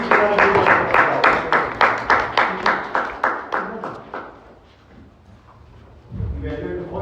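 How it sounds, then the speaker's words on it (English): An audience at a Toastmasters club session applauds in strong rhythmic unison, about a dozen evenly spaced loud claps that fade and stop midway, followed by quiet and then a low rumble of room noise. "please give us a round of applause"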